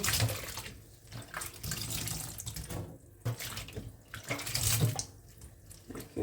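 Enoki mushrooms with their stems trimmed off are rinsed under running tap water in a sink, a steady splashing stream that swells and dips as the clusters are handled, fairly quiet with no talking.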